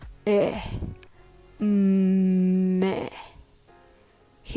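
A voice imitates a dog's growl, a sustained low rough rumble held for over a second between shorter guttural vocal bursts, close and loud.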